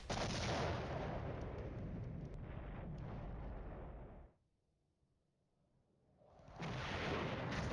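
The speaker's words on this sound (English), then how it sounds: "We are going to have to bring down as much artillery we can on there." Artillery fire in the Cold War strategy game Flashpoint Campaigns during a night assault: a dense, loud rumble of barrages and blasts that drops to near silence for about two seconds, then swells back in.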